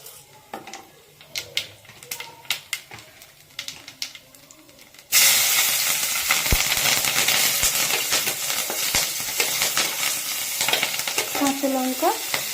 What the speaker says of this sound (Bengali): এবার আমি তেলের মধ্যে কালো জিরে দিয়ে দেবো কটা